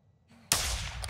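Gunfire bursts out abruptly in Call of Duty Modern Warfare II DMZ, a loud close shot with sustained crackling after a quieter lead-in.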